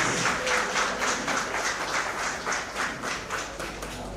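Steady applause from an audience welcomes the chief guest and guests of honor at a PGDM inauguration ceremony, with dense rhythmic clapping at moderate volume throughout.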